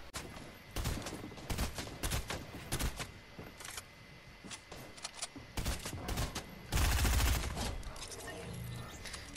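Rapid gunfire from a shooter video game: dense bursts of shots with brief pauses, then a heavy blast near the end, loud and close throughout.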